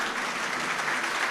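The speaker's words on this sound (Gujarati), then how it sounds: "આ તાળીઓનો નાદ તારા કાન સુધી જે પહોંચી રહ્યો છે" A crowd at a public gathering applauds a performer, a loud, dense and steady roar of many hands clapping together without a break.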